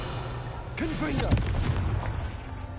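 A Confringo fire spell blast in Hogwarts Legacy, a booming explosive burst with a short rumbling tail, heard beneath a voice speaking over game sounds.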